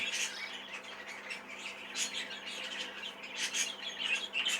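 Several budgies chirp and tweet in quick, overlapping bursts, fairly close and busy, with bright high-pitched calls repeating throughout.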